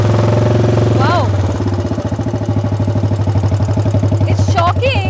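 A Royal Enfield custom chopper motorcycle's engine thumps at a low steady pulse, close and loud, with brief squeaky vocal-like chirps over it near the start and end.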